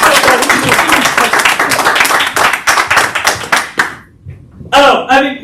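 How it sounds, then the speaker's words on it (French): An audience claps for local shopkeepers at a commerce event, the brisk clapping mixed with voices and chatter before it fades and a voice speaks at the end. "Allez, on peut les applaudir, hein,"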